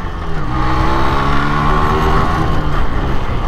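A Yamaha RX 135 motorcycle accelerating, its two-stroke engine giving a loud, close, buzzing drone that holds steady and rises slightly in pitch, with no voices over it.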